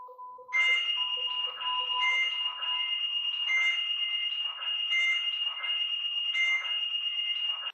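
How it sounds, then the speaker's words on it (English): Repeating electronic lone-worker reminder alert tone from a DN495 two-way radio, a loud high-pitched beeping pattern that cycles steadily for several seconds with no voices. "Pressing any button will now cancel the alert and the timer is reset."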